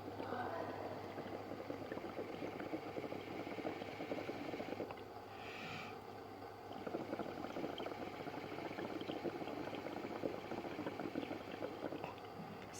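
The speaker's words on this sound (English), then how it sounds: "when I breathe through the straw into the water, I'm going to bubble carbon dioxide into the water" Breath blown through a straw bubbles steadily into a container of water during a classroom ocean-science demonstration. The soft, continuous gurgling is faint and close, with a short pause partway through.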